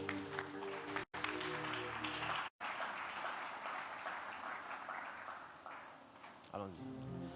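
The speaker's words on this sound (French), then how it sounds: "Et acclame le Seigneur en t'asseyant, s'il te plaît." A church congregation claps for the Lord in sustained applause mixed with voices and tonal sounds, cut by two brief dropouts early on.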